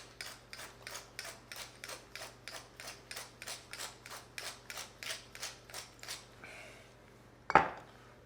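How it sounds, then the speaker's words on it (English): A spoon stirs salt and pepper into a cooked dish in a pot: about sixteen steady, evenly spaced scraping strokes, then a pause and one sharp metallic clank as the utensil taps the rim. "Get that stirred in."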